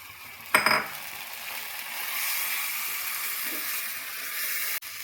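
Chicken mince is dropped into hot masala frying in a pan for chicken keema. A brief clatter is followed by a steady, bright sizzle that holds at an even level, ending with a faint knock.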